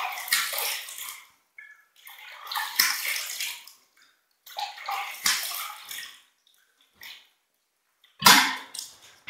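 Warm tap water runs into a bathroom sink for a post-shave rinse, coming in close, intermittent gushing and splashing bursts separated by short quiet gaps.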